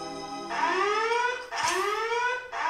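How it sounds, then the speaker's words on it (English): A loud electronic alarm from the comedy film Spaceballs blares in two long rising-pitched bursts with a brief gap between them, then starts a third, ringing alone without talk. "Virgin alarm! That was my virgin alarm."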